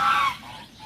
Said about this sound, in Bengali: এই যে এখানে চীনা হাঁসগুলা